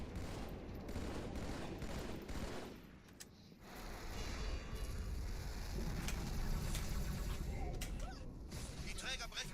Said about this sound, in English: Cortana, konzentriertes Feuer auf den ersten Träger